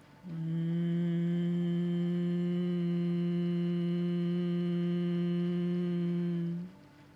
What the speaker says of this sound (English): Hum to exhale with the mouth closed.